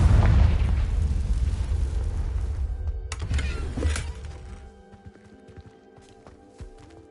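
A Confringo spell going off in Hogwarts Legacy, a loud close fiery boom that rumbles and decays over several seconds, followed by scattered debris crackles and faint clicks.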